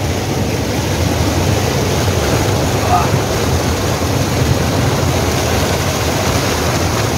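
Loud, constant rushing roar of fast-flowing spring water at Banyan Spring in Tabogon, Cebu, close to the microphone, a dense steady wash with no breaks.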